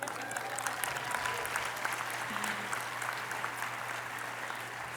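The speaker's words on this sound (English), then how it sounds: "Yes, we can applaud that." A commencement ceremony audience claps in sustained, even applause, a dense wash of many hands at moderate distance, with a faint low hum underneath and no voices rising above it.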